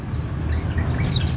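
A caged oriental white-eye (pleci) sings a run of quick, high, thin chirps and trills over low background rumble, and the notes get louder and denser near the end.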